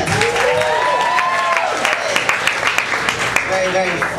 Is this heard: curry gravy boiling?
no